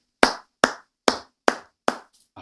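Five sharp, close hand claps land at an even, unhurried pace, each a crisp single slap that stands alone against silence, with a faint trailing tap at the end.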